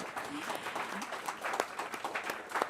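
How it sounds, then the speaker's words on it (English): An audience at a writers' reading event applauds, producing a steady patter of clapping hands, with voices speaking over it. "Let's hear a round of applause."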